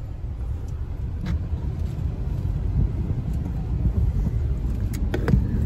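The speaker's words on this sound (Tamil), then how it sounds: "இங்க ரொம்ப டிராஃபிக்கா இருக்கு" Steady road traffic rumble on a busy highway heading toward Andhra Pradesh, a continuous low drone of car and vehicle engines with occasional brief passing sounds, fairly loud and without speech.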